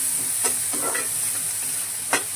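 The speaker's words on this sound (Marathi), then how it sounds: "आता इथे मैत्रिणी कांदा छान ब्राऊन करून घेते मी पहिला." Chopped onion browning in a pan, with a steady sizzle and a few short scraping stirs of a spoon cutting through the frying, close and alone.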